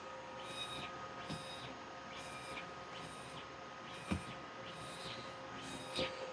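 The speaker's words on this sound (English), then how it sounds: "All right, it's printing again." An xTool apparel DTF printer at work, its print head sweeping back and forth in a steady rhythm of roughly one pass per second over a constant mechanical hum, with occasional louder clunks.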